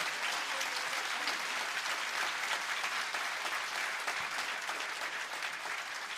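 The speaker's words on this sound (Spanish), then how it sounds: "Más fuerte ese aplauso" A church congregation claps steadily and enthusiastically, a dense, sustained applause that holds at an even level throughout.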